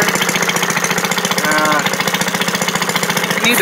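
A Maytag washing machine runs with a loud, steady, rhythmic chugging pulse that repeats evenly throughout, with no voices over it.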